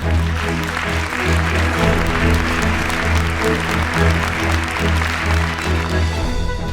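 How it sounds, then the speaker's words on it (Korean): Wedding guests clap at the start of a ceremony in a Korean convention hall, a dense wash of hands layered over loud, sustained background music with low tones. "여러분 큰 박수 부탁드립니다."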